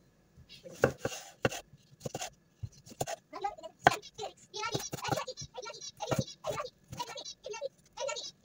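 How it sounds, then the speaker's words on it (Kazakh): Knife chopping peeled cucumber on a board for a summer okroshka, a steady run of sharp close taps with a soft background hum and no talking. "Қиярымызды тураймыз енді."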